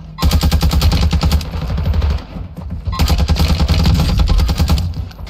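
Loud, close automatic fire from a Kastov 74U in Warzone 2 rattles out in two sustained rapid bursts separated by a brief gap.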